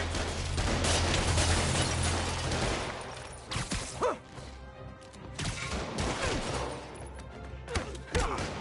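Criminals firing guns at Spider-Man in Marvel's Spider-Man Remastered: a dense burst of gunfire and crashing impacts, followed by scattered sharper shots and thuds, with some shouting mixed in.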